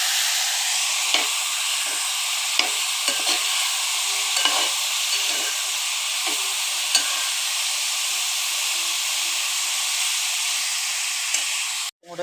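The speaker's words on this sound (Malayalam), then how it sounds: "ഇതിലേക്ക് ഇട്ടിട്ട് നന്നായി ഒന്ന് മിക്സ് ചെയ്തെടുക്കാം." Beetroot and egg thoran fries in a pan, a loud, steady hissing sizzle that holds almost unbroken, with soft scrapes of stirring now and then and no talking.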